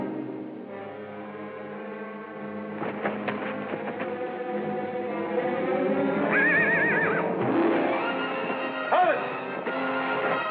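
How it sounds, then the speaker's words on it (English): Horses tied at a hitching rack outside in an old Western whinny with rising, quavering neighs over a steady background of murmuring and music, moderately close. "There are 2 horses at the rack outside."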